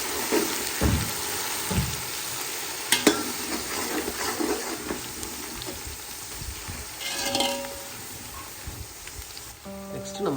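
Onions fry with a handful of coriander and mint in a large two-kilo pot of seeraga samba chicken biryani, a continuous sizzle broken by spatula scrapes and occasional metallic clanks against the pan.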